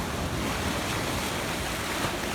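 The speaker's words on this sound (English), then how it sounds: "you might wonder what's causing all these waves" Ocean surf washes against rocks along a Florida coast, a continuous broadband rush of churning water mixed with wind noise on the microphone, steady and fairly loud with no voices.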